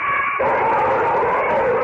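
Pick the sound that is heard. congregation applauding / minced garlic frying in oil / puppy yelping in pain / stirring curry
puppy yelping in pain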